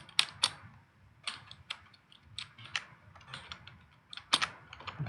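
Someone types on a computer keyboard close to the microphone. The key clicks and clacks come in short irregular bursts with pauses between them, alone in a quiet room.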